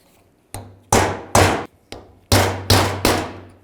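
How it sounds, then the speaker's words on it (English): A hammer strikes a chisel seven times in an uneven rhythm to pop the cap off a CV joint on a 2010–2017 Chevrolet Equinox. Each hit rings out loud and close with a short metallic decay. "Pop this cap off. I'm going to use a chisel."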